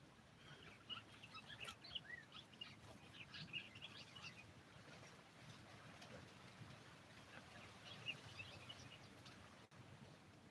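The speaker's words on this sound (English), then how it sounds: "You hear the birds?" Small birds chirp and tweet in scattered bursts outdoors on a farm, faint and somewhat distant over a soft steady background hiss, with no talking.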